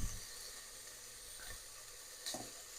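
Zucchini fry in a pan with a steady, close sizzle, and tongs flip the slices with a couple of brief clacks and scrapes near the start, middle and end. No one speaks.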